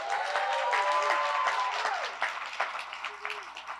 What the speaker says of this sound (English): Can we give Declan a round of applause?